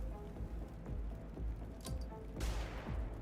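A flashbang grenade goes off in the video game Xenonauts 2, a sharp broadband burst near the middle of the clip over a constant crackling, rattling game background.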